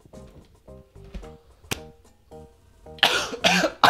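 A single person coughs repeatedly in short, separate bursts, about eight of them at close range, and the last few are harsher and louder, with no speech between them.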